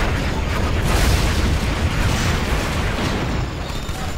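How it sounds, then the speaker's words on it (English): Rockets launched and exploding in a video game combat scene make a dense, continuous roar of overlapping booms and blasts, loud and unbroken for several seconds. "Unloading rockets."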